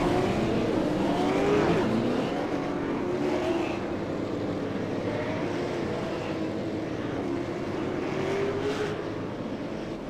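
Race cars at the Las Vegas Bullring rolling off the grid, engines droning and rising as they pull away, a loud steady roar with shifting pitch, no talking.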